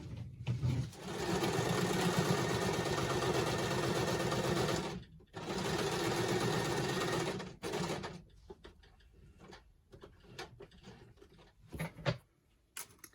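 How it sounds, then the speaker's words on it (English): A sewing machine stitches across a line on a paper notebook page in two steady close runs of about four and two seconds, separated by a brief pause, then quieter handling clicks and rustles follow. "I'm just going to sew across this line"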